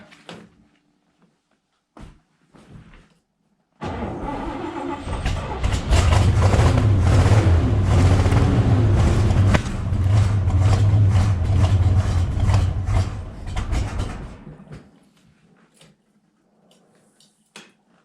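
A Chevrolet El Camino SS 454 V8 cranks, catches and settles into a loud, rumbling idle for about ten seconds before shutting off, with brief clunks before and after.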